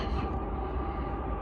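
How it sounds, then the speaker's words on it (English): A BNSF freight train with an SD75M locomotive as a distributed power unit rolls past at close range in the early morning, with a loud, steady rumble and roar of wheels and cars and no voices. "That's an early morning train."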